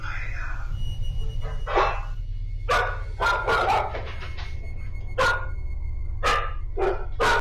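A dog reacts inside a room of a house, giving a series of sharp, separate barks or yips spread across the clip, fairly close, over a steady low hum in the background.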